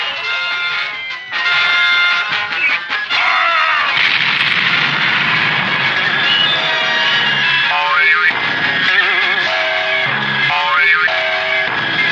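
Cartoon artillery, big guns firing in a loud, continuous barrage of booms and sustained noise, with warbling whistle-like tones woven through, dense and unbroken throughout.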